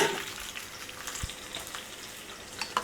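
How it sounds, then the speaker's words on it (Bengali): Garlic cloves frying in a pan, giving quiet, scattered crackles and a soft sizzle that stays fairly faint throughout, with no one speaking. "এখন রসুনের কোয়াগুলো ভেজে নিচ্ছি"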